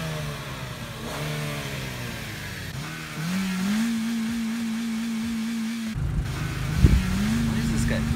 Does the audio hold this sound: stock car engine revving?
yes